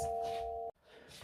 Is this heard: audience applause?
no